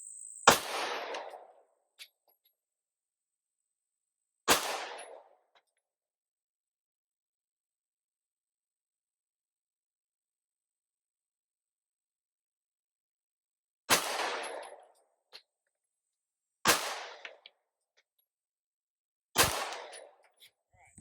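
Gunshots fired at a bullseye target, five sharp, loud reports spaced irregularly with long silences between them.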